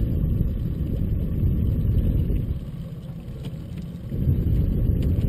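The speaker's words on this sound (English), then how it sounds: "That wind is coming straight down the river." Steady wind rushing over the microphone aboard a sailing yacht on a river, a loud, continuous low roar that dips briefly near the middle and then swells again, with no voices.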